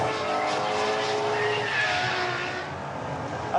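A LaFerrari hybrid supercar, its engine assisted by a 163-horsepower electric motor, accelerates hard, a loud sustained engine howl with rising tones that eases slightly toward the end, with no talking.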